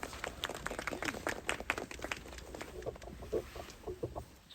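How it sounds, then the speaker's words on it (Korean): Audience applause at a memorial ceremony honoring non-regular worker Kim Yong-gyun on the sixth anniversary of his death: a ragged burst of many hands clapping that rises, thins out and trails away. "다시 한번 큰 박수 부탁드리겠습니다"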